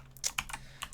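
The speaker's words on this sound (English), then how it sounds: "typing too much here, too fast" Fast, close computer keyboard typing during C++ coding, a quick burst of crisp key clicks in an uneven rhythm with no talking.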